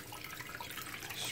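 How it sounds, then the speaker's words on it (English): Liquid from pineapple peel soaked nine to ten days is poured through a strainer, giving a faint, steady trickle and splash with no talking. "This is 9 to 10 days of soaking the pineapple peel. See, strain it off."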